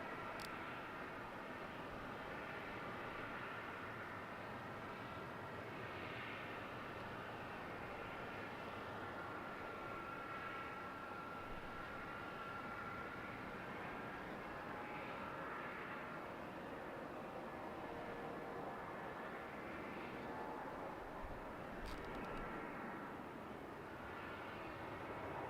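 A Jetstar airliner takes off from runway 34 at Melbourne Airport, a steady, broad engine roar that stays loud and constant throughout with no voices over it.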